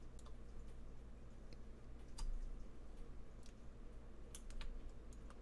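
Quiet, close typing on a computer keyboard while entering a Google search, with irregular key clicks and a few louder taps over a low background hum.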